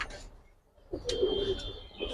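Soft Giribaz pigeon cooing, a low murmuring call repeated a couple of times at close range over faint background noise.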